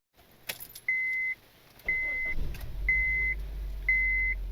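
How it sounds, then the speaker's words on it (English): A 2006-2015 Honda Civic with the R18 engine starting up: keys jangle, a few spaced electronic chimes sound, then the engine cranks and settles into a low, steady idle beneath the repeating beeps. "I'm going to start the vehicle now"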